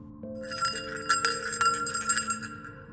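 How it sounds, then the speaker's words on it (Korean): A small bell jingles softly and steadily, a sustained bright ringing with light repeated shakes layered over a low hum, with no voices. "딸랑딸랑 딸랑딸랑 이러면서 은은하게 작은 종소리가 들리는 거예요"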